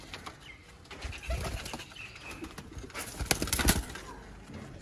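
Pigeons of several breeds, including Goldens and Sialkotis, move about a breeder loft with soft cooing and bursts of wing flapping, close and moderately quiet, with louder flurries partway through.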